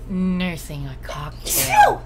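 A single sharp sneeze bursts out near the end, right after a voice finishes speaking, close and loud.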